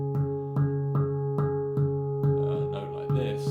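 Handpan struck in a steady sequence of ringing notes, each with a sharp attack and sustained harmonic tone, with one stronger accented hit among softer ones, played alone and close.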